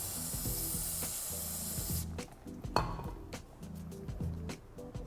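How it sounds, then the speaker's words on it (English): Carb cleaner hissing from a spray can onto skateboard wheel bearings, a steady close spray for about two seconds followed by short bursts with small metallic clinks of the bearing parts. "we're just going to take some of our carb cleaner and spray all over the bearings"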